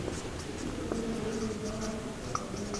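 Pen or chalk strokes writing out a trigonometric integration problem, a faint continuous scratching with small taps, quiet and close with no talking.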